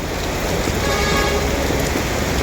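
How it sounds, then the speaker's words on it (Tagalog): Heavy rain pours in a dense, continuous roar, loud and unbroken, with a faint low rumble of traffic beneath. "Sobrang lakas ng ulan."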